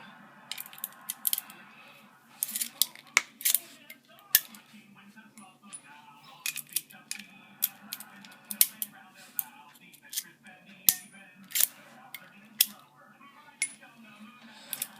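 A hand priming tool seats primers into 7.62x39 Russian brass cases for SKS reloads, making a series of sharp, close clicks and metallic snaps in irregular bursts over a quiet room hum.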